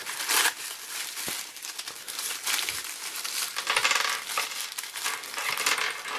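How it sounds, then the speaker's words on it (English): Continuous crinkling and rustling of tissue paper as Soundwave toy accessories are unwrapped, close and fairly loud with sharp crackly bursts throughout. "the tissue paper over here has his accessories. Let's go ahead and get them out."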